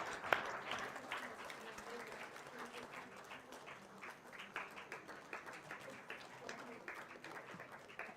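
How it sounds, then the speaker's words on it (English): Symposium audience applauding an honoree in a Chennai hall, a continuous moderate wash of many hands clapping at some distance, even and sustained with occasional sharper claps. "A big round of applause, please."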